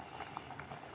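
Oil boiling in a pot, faint soft bubbling with scattered small pops, steady and quiet, no voices.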